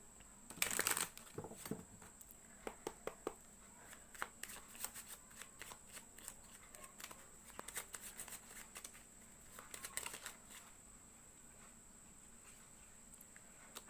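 Playing cards shuffled and drawn for a tarot-style pick-a-card reading, with a burst of riffling near the start followed by repeated soft flicks and slaps of cards, close and fairly quiet with no talking.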